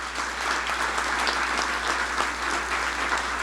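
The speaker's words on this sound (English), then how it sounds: "How about a round of applause?" Applause from an audience at a United Way campaign kick-off event, a loud, steady wash of many hands clapping that holds evenly throughout with no talk over it.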